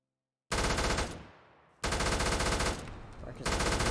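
M249 machine gun in a Modern Warfare game mod firing in loud, rapid full-auto bursts: a long burst, a short pause with ringing decay, then another sustained burst, close and without talk.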